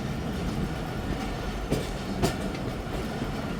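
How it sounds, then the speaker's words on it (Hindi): The Khyber Mail train rolls into Khanpur railway station with a steady heavy rumble and a couple of sharp clacks from the wheels over the rails, close and loud. "ट्रेन पहुंच रही है हमारी खानपुर रेलवे स्टेशन।"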